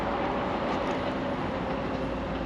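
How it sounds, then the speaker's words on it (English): A Docklands Light Railway train passes at Gallions Reach station, a steady, loud rumbling wash of wheel and motor noise that fills the whole clip without letup. "we've got a train coming."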